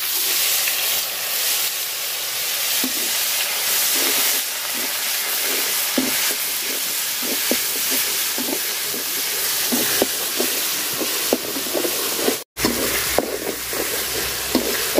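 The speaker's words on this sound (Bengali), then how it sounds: "মাছ ভাজার তেলে আমি এই যে বাটা মশলাটা দিয়ে দিলাম।" Ground spice paste frying in leftover fish-frying oil in a pan, a steady close sizzle with scattered stirring scrapes and small pops running throughout, briefly cut near the end.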